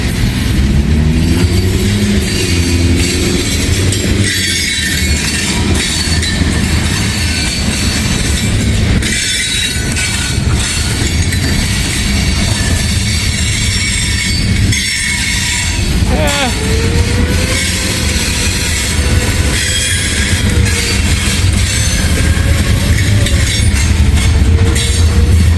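A massive freight train climbs a steep hill with its DPUs and helper locomotives notched up, giving a loud, continuous rumble of engines and rolling wagons, broken by occasional wheel squeals.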